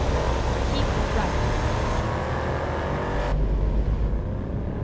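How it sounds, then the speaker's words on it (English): A loud, steady Chevrolet Camaro engine in a video game drones with a throaty roar, holding a constant rumble with slight shifts in pitch, with voices talking over it. "it sounds like that Camaro right there"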